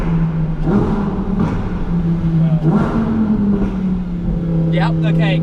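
A Lamborghini Huracan Performante engine holds a steady loud drone at about 5,000 RPM from inside the car, with slight pitch dips and brief talk toward the end.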